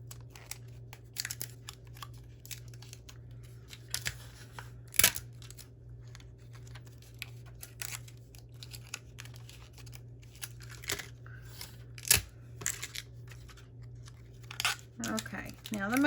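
Tape is pulled and pressed along the sides of a heat-press craft project, heard as scattered crisp crackles and sharp snaps of tape handling over a steady low hum.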